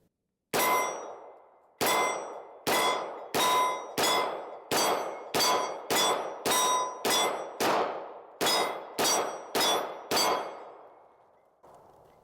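An FN Reflex pistol firing 147-grain, non-+P rounds at a steel target: about fifteen loud, sharp shots in a fairly steady cadence, each followed by a bright metallic clang and short ring, with no talking.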